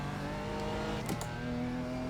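BMW M4 GT4 race car in iRacing at Summit Point, engine droning steadily at high revs with a brief dip and pitch change during a short upshift, loud and close throughout.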